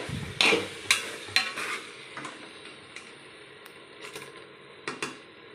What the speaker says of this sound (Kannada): ಚೆನ್ನಾಗಿ ಬೇಯೋವರೆಗೆ ಹುರ್ಕೊಳ್ಳೋಣ